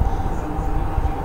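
The Chattogram Mail train rumbles at Kamalapur railway station, a low steady mechanical drone over a few seconds with a faint voice underneath.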